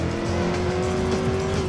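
A car in a video game drives with a steady, droning engine tone and faint tire noise, held continuously and fairly loud for a brief stretch without speech.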